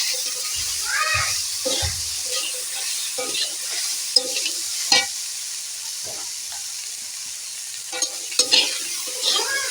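Pumpkin greens, stems and potato are stirred in a frying pan with salt, a steady sizzle under intermittent scraping strokes of the spatula, fairly close, with occasional sharper clicks and no talk.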